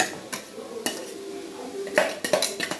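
A utensil scrapes and clatters against a pan as ground coconut is stirred into spinach thoran, a few sharp knocks over quiet, close-up kitchen sound.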